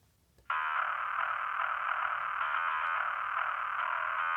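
Metal bass guitar tone narrowed to a band around 1.5 kHz gives a thin, buzzy, nasal drone that starts abruptly and holds steady for about four seconds, with no voices.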